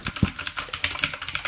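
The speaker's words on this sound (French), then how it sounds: "Voilà, le Switch bleu, ce qui fait ce bruit." Mechanical keyboard fitted with blue switches, tapped in a quick, uneven run of sharp clicky keystrokes, close and fairly loud, with no talking.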